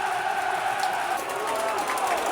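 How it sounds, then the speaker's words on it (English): Football crowd at a Millwall versus Hull City match roaring steadily after a shot on target, a dense sustained wash of voices with no clear pauses. "That's got the crowd going, dear listeners."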